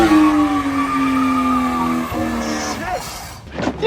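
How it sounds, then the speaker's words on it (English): Cars at a car meet revving hard and doing burnouts, with a loud sustained engine drone, squealing tires and a pitch drop near the end, close and dominant. "we got cars revving, doing burnouts over here"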